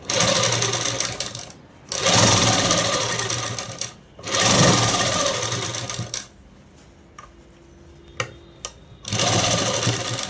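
A sewing machine stitches the sleeves onto a seven-year-old child's blouse, running in loud steady bursts of a couple of seconds each, separated by short pauses with faint handling clicks.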